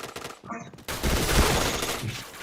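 Rapid gunfire in a video game, a loud sustained burst of shots that kicks in after a short lull, dense and close, with some talk mixed in early.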